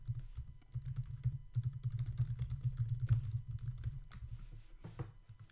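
Steady, continuous typing on a computer keyboard, close and fairly soft, with rapid keystrokes running throughout without pause.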